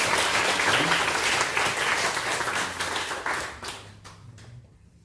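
A church congregation at a Sunday worship service gives a warm round of applause in thanks, dense and close at first, then thinning into scattered claps as it dies away.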